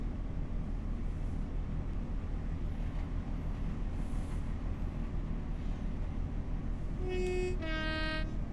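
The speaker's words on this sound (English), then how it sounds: "Sound the horn as we approach, why not?" Train horn sounding near the end in a Great Western railway simulation game, a loud tonal blast with stacked harmonics rising over steady rumbling engine and rail noise as the train approaches a station.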